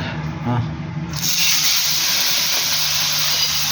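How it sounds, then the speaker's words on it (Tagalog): A steady, loud hiss and crackle of chicken butts frying in hot oil, rising sharply after a quieter start and sustaining evenly to the end. "May chicken butts na prito. Chicken butts. Init-init ng mantika."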